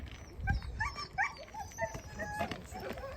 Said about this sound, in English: this is the lead dog, so she will run in front